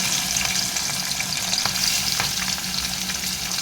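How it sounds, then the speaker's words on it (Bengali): Prawns fry in hot oil in a kadai, left behind after frying onions, giving a steady, close, bright sizzle with faint stirring clicks and no voices. "চিংড়ি মাছটা দিয়ে আমি ভেজে নেবো ভালো করে"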